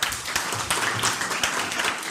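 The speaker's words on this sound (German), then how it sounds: "Hochverdienter Applaus" Brisk, steady applause from an audience at a youth hackathon presentation event, dense and even throughout the short burst.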